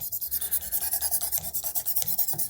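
A kitchen knife is drawn back and forth across an 800 grit sharpening stone, making quick, evenly spaced rasping strokes, about ten per second, close and clear with no voices.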